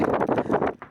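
Gusty coastal wind on a clifftop walk between Castletown and Port Erin, Isle of Man, buffets the microphone in uneven bursts, loud and close, easing briefly near the end.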